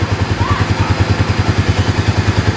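Stock Honda GTR / Supra 150 motorcycle engine running after an ECU tune, a loud close idle with a fast steady pulsing thump and mechanical clatter.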